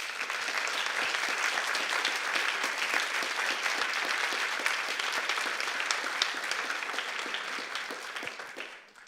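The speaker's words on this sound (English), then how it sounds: "Please, a big applause." An audience at a symposium gives warm, continuous applause to welcome a speaker, a dense even clapping that holds steady, then fades out in the last second.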